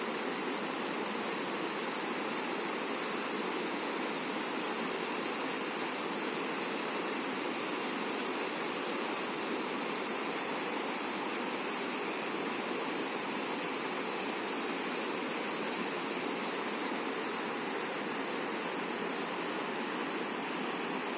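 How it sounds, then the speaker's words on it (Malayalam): Rain-swollen water rushing down from Poonchola hill in a mountain stream, a steady, unbroken broadband roar, close and constant throughout with no voices. "ഇത് പൂഞ്ചോല മലയിൽ നിന്ന് ഇപ്പൊ മഴയൊക്കെ പെയ്തിട്ട് നന്നായി മഴയൊക്കെ പെയ്ത് മലയിൽ നിന്ന് ഇറങ്ങി വരുന്ന വെള്ളമാണ്"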